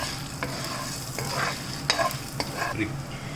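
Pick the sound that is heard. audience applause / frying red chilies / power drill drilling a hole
frying red chilies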